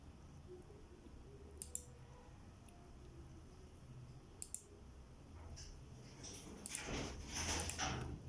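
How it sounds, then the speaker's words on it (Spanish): A computer mouse clicks in statistics software, a few sharp, faint clicks spaced apart and then a quicker cluster near the end over a quiet, hissy room background. "A continuación, damos clic en analizar"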